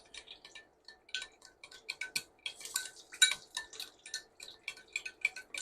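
A spoon stirs honey into a sauce of garlic, soy sauce and sweet chili sauce in a dish, giving a run of close, light clinks and scrapes that repeat irregularly, with no talking.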